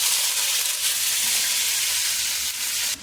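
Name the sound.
tempering (baghar) sizzling for kadhi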